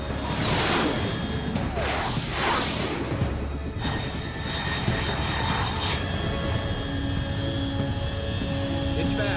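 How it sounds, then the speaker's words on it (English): A fast unidentified aircraft in Metal Gear Solid 3 roars past, a loud sustained jet rush with sweeping whooshes and a steady engine hum throughout. "Unidentified aircraft detected."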